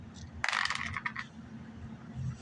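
A six-sided die and a scatter die clatter briefly across a tabletop during a wargame turn, with a sharp burst of rattling close by followed by a quiet pause.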